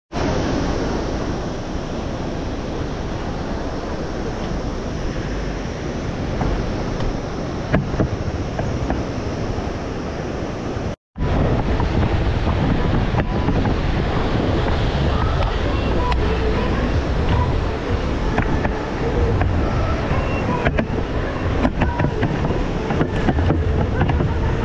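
The Kali Gandaki river rushes past on the route from Beni toward Jomsom in Mustang, a loud continuous roar of water mixed with heavy wind buffeting the microphone, briefly cut off once partway through.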